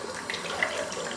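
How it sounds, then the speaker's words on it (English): A tap runs steadily into a sink, filling it with hot water, a continuous close rushing of water. "fill up your sink with hot water"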